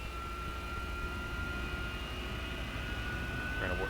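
AV-8B Harrier jet engine spooling up in a DCS flight simulator, a steady whining drone with high tonal hums, fairly quiet and continuous in the cockpit.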